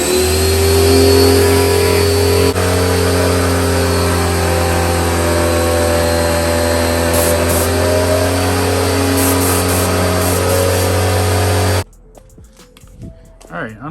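A pump's steady, loud motor drones at a constant pitch for most of the clip during a truck wash, then cuts off abruptly, leaving faint rustling and small noises.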